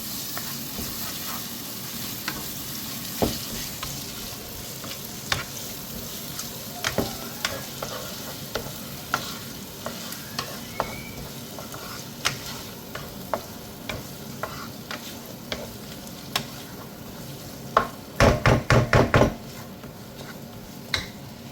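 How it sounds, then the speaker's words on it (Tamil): Ginger garlic paste frying for a chicken curry, a steady close sizzle with regular spoon strokes scraping the pan, ending in a quick burst of rapid clatters near the end; no one speaks. "இஞ்சி வெள்ளைப்பூடு பேஸ்ட்டு போடுவோம் தேவைக்கேற்ப"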